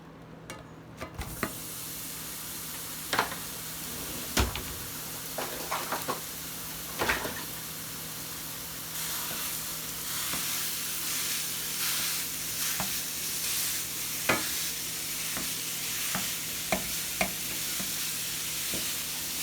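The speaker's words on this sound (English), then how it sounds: "we're finna put the ground beef on" Ground beef sizzles in a pan on a stovetop, a steady bright crackling hiss that swells after the first seconds, broken by occasional sharp clacks and scrapes of a utensil, close and with no talking.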